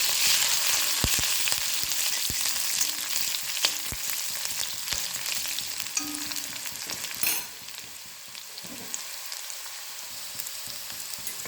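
Green chilies, curry leaves and dried chilies sizzle and crackle in hot oil, a dense, continuous frying hiss with occasional sharp pops and stirring scrapes, close and steady throughout.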